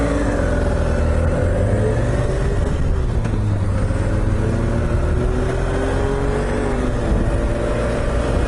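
Car engine held at varying revs while the driver feathers a slipping clutch, a loud continuous rumbling drone with rising and falling engine tones and steady road noise throughout.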